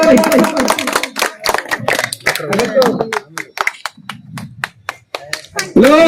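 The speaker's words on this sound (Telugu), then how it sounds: "అందరూ కూడా గట్టిగా క్లాప్స్ కొట్టాలి." Sharp individual hand claps ring out at a Gandhi tribute event, irregular and close, scattered among lively talking voices that run over much of the sound.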